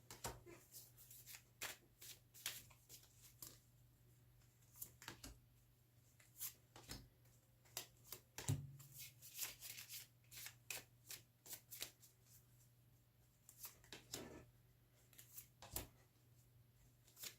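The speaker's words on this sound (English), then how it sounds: "I'm reading with the Radiant Rider-Waite deck. That's what you can hear shuffling." Radiant Rider-Waite tarot deck being shuffled by hand: repeated soft riffling and slapping bursts of cards at an irregular pace, close and fairly quiet, with no talking.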